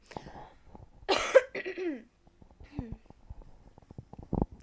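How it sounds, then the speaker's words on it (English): A few close, harsh coughs burst out in quick succession, followed by throat-clearing sounds and soft breathing in an otherwise quiet room. "Sorry, I just need to cough a minute."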